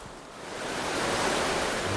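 Gushing waterfall upstream in the Great Bear Rainforest, a broad steady roar of rushing water that swells over the first second and then holds loud and constant.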